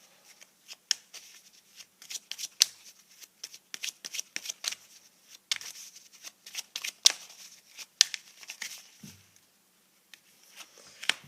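Tarot cards are shuffled and drawn by hand, producing a steady stream of close, crisp riffling flicks and soft card slaps that continue with brief pauses and no talking.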